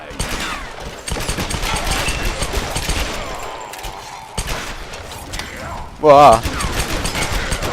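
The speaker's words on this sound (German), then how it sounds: "Wow, wer schießt denn da?" Rapid gunfire bursts crackle through a Tomb Raider game, with mechanical clatter and a louder blast near the end, while a man reacts with brief exclamations.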